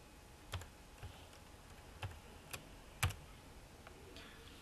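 Several separate computer keyboard key presses click at irregular intervals, faint and close, against a quiet background.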